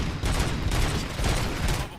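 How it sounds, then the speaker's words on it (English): Bursts of gunfire in the RoboCop video game, a dense rattling fusillade in several loud waves with brief dips between them, no talk. "Gunshots? What's going on?"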